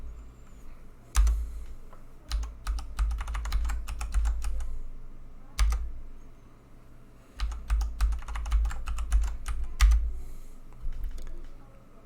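Commands are typed on a computer keyboard while setting up an Ubuntu server, a close, crisp patter of keystrokes in quick bursts with short pauses between runs.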